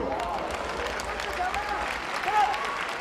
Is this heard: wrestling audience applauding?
yes